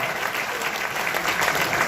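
A large convention-hall audience at a motivational business meeting in Bhubaneswar claps loudly and continuously, a dense, even wash of applause with no gaps.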